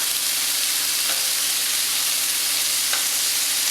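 Chicken pieces fry for a stir fry, giving a steady, even sizzle that stays loud and close throughout, with no talk.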